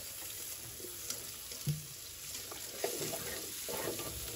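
Onion and chili sizzle in hot oil before greens go in, a faint, steady crackling hiss with a few soft clinks from stirring.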